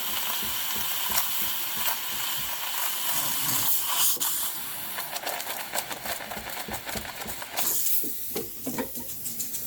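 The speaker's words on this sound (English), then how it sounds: "I'm also shooting some steam into the corner of the shoulders there where there's a little bit of a gap." Steam hissing in a steady, close blast as it is shot into the shoulder corners of a roughly century-old Koa Martin guitar, with brief clicks and sputters near the end.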